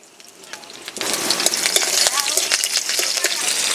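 Slit green chillies go into a hot mustard-oil tempering of dried red chilli, bay leaf and radhuni. A loud, steady sizzle surges in after about a second, with faint voice-like sounds mixed in.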